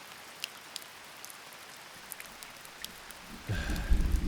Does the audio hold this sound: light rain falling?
yes